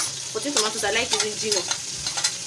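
A pan sizzles softly while tomatoes fry with onions for chicken stew, stirred with scraping clicks, as a person talks over the frying.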